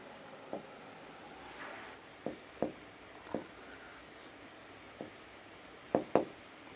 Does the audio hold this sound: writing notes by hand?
yes